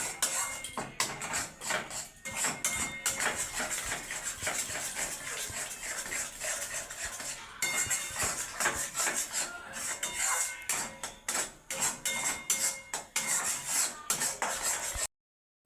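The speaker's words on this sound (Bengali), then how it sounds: "আমি ভালো করে আমি নেড়ে নেবো শুকিয়ে নেবো" Repeated scraping and clinking of a utensil stirring spices in a pan, an uneven rhythm of rubbing strokes with light metallic knocks.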